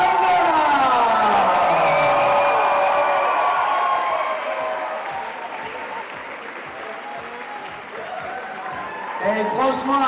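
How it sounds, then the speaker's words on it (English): An audience at the Arkose International lead climbing competition applauds and cheers loudly for the women's podium winner, the noise swelling under an announcer's voice, then fading before the talk resumes. "please make some noise for Laura Longoria"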